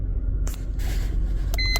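A Mercedes-Benz S560 sits with its ignition switched on during a scanner diagnostic test, giving off a low steady rumble, a few faint clicks, and a short pair of electronic beeps at the end.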